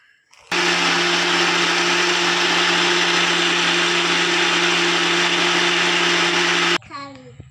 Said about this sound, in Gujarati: આમાં પણ આપણે થોડુંક દૂધ એડ કરી અને પીસી લઈશું